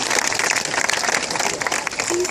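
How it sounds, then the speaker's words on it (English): A zoo crowd at a sea lion display at Blackpool Zoo breaks into loud, close, sustained clapping, a dense wash of many hands that runs throughout with a brief faint whistle near the end. "Let's give him a massive round of applause."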